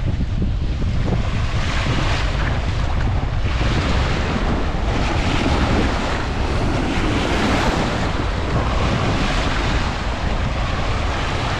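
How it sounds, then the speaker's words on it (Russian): A seaside breeze at Anapa buffets the microphone in loud, continuous gusts, mixed with the steady wash of waves on the shore and no talk. "Ветерок обдувает."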